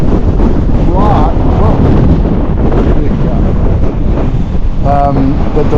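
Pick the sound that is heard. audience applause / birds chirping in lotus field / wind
wind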